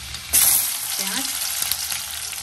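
Onions sauté in a hot pan of leftover potato-frying oil for chilli potato, giving a loud, steady sizzle that starts abruptly, with faint stirring scrapes throughout.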